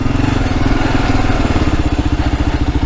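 A 2022 Kawasaki KLR motorcycle engine runs close by with a steady, rapid single-cylinder thumping that holds loud and even throughout.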